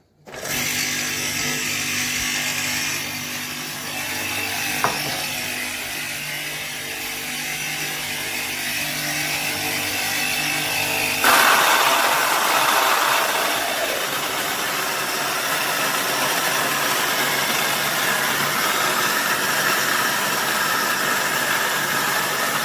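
An Eco Mill countertop grain mill grinding grain into flour runs continuously with a loud, steady motor whine and grinding rasp, growing harsher partway through, with no voices.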